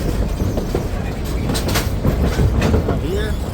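The GSMR steam engine 1702 excursion train rolls across a trestle over the Tuckasegee River, with loud close rumbling, rattling and clacking wheels and brief squeals.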